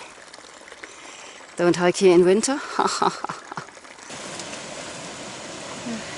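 Fast-flowing Miller Creek, a small mountain creek near snowbanks, rushes with a steady broadband wash that briefly drops beneath a voice speaking in the middle, then returns loudly.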